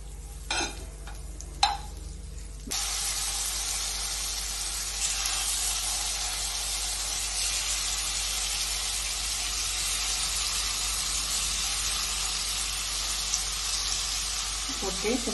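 Green chicken fries in butter over a low flame, a steady soft sizzle that comes in after a few clicks and knocks and continues evenly, with an occasional tap or scrape.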